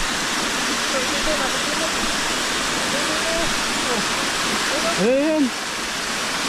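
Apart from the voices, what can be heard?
strong water current flowing through a dam spillway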